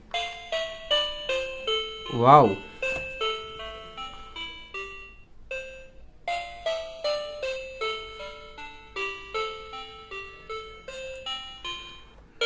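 A tinny electronic melody plays in short beeping notes from a small rabbit-shaped toy phone's speaker, with a brief exclaiming voice early on.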